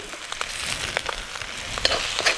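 Mushrooms frying in butter with garlic in a pan give a soft, steady sizzle with faint crackles and light stirring, quiet and close.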